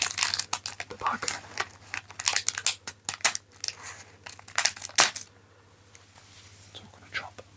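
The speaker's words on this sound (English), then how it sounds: "So I'm going to chop the top of that bag off." Scissors snip and crinkle through a plastic LEGO parts bag in a quiet, close-up soft whisper ASMR setting, with crisp rustling and several sharp cuts in the first five seconds before near-silence.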